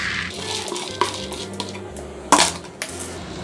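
Homemade fish feed pellets for catfish poured into a metal pot, with clattering, scraping and a couple of sharp metallic knocks, close and fairly loud, with no talking.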